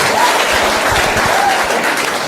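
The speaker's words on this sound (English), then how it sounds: "Can we give a round of applause for the main man of Uthando" Applause from a crowd at an outdoor bench unveiling honouring Harry Belafonte, a dense, loud, even wash of clapping that holds steady for a couple of seconds before easing slightly.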